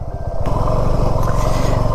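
A motorcycle rides up to Revdanda Fort near Alibaug, its engine putting out a loud, close, rapid low pulsing thrum that swells after a brief quieter start.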